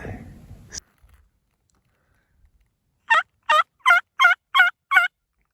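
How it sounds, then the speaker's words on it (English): A wild turkey in Utah's West Desert gobbles in a rapid series of six bursts, faint and distant, following a moment of quiet after brief rustling. "the gobbles"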